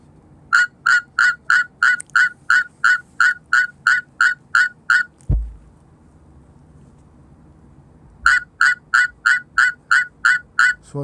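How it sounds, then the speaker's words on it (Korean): Suwon treefrog calling in a reference recording: two long runs of rapid, evenly spaced harsh rasping notes, close and clear, separated by a few seconds of quiet. "그런 수원 청개구리의 육성을 국립환경과학원 디지털북에 수록된 소리로 들려드리고자 합니다."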